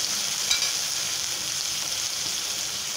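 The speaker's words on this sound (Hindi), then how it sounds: "आधा टीस्पून मैंने ये जीरा और सबसे पहले हम इस प्याज को भूनेंगे।" Onions and cumin seeds fry steadily in a pan, a continuous close hiss of sizzling oil that runs unbroken with a slight flare near the start, no voices over it.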